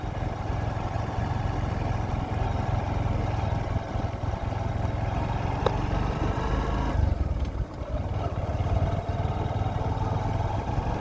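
A new motorbike being ridden, its engine a steady mid-pitched drone with constant wind rush, holding an even speed with no voices.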